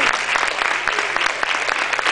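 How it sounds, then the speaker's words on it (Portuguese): Church congregation clapping together in steady rhythmic beats during a lively worship service, the claps loud and close, with no talk over them. "Dá uma salva de palmas para Jesus."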